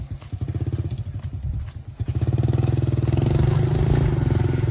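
A motorcycle ridden along a rough rural road, its engine putting out a steady throbbing drone close by that grows louder and more even after a brief dip, with rattling clatter underneath.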